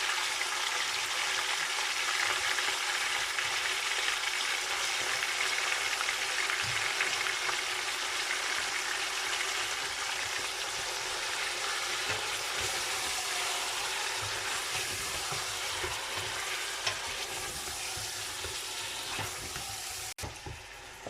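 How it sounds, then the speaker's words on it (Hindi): A pot of mutton, 1.5 kg, fries with ginger garlic paste for korma, giving a loud, steady, unbroken sizzle that holds evenly from start to finish with no voices. "अब हम इसको अच्छी तरह भूनेंगे"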